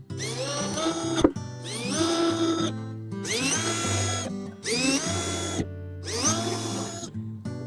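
A power drill drives screws into a wooden bee hive box from a Beetech hive kit, in five loud, close whirring bursts separated by short pauses, with no talking.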